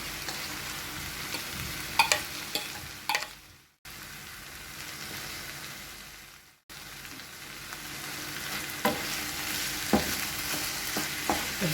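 Mashed brinjal being stirred into tomato masala in a pan for brinjal chutney, a steady close sizzle broken by scraping spoon strokes, with two brief silent gaps partway through.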